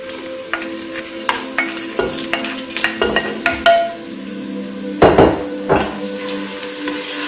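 Whole garam masala spices are stirred in a pot with hot oil for a meat and potato curry, the spoon scraping and knocking loudly in uneven strokes over a soft sizzle.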